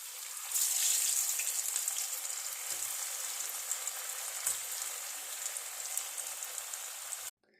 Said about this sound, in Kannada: ಕುಡರ ಎಣ್ಣೆಡ್ ಪಾಡ್ಗ ಫ್ರೈ ಮಲ್ಪರೆ